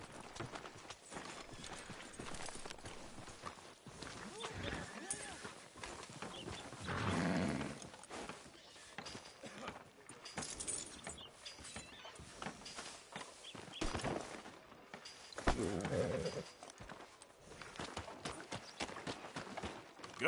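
Horse hooves in Red Dead Redemption 2 thud softly at a walking pace, faint and intermittent under ambient game sound and street noise.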